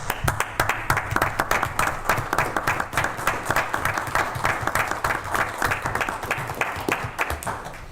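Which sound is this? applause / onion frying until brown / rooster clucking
applause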